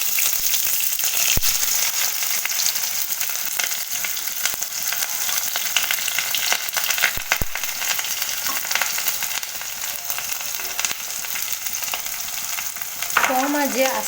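Chopped onion slowly frying on low heat in a pan, a gentle steady sizzle with intermittent stirring scrapes and a few sharp clicks, close and even throughout, no speech.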